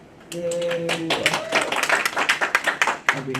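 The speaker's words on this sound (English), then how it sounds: "Please give him a warm round of applause" Brief clapping from a small audience at an AI marketing lab event, welcoming a speaker. Scattered hand claps rise in irregular bursts after a short tonal sound, with voices faintly underneath.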